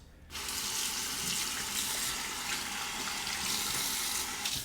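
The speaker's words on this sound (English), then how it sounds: "Now perform a quick rinse to the face" Tap water pours steadily into a sink for a face rinse after a shavette razor shave, a close, continuous rushing hiss that starts abruptly and holds alone.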